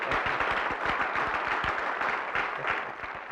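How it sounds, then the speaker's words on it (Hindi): An audience applauding an award at a film industry event, a dense, sustained round of clapping from a crowd that fades slightly toward the end. "और जोरदार तालियां बजाई जाए इस अवार्ड के लिए।"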